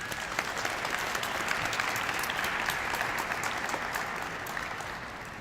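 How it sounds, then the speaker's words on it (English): A crowd at a mayoral solar-energy announcement in Atlanta claps steadily, a dense, even wash of hand claps that holds at a constant level for several seconds with no voices on top. "Please give them a round of applause."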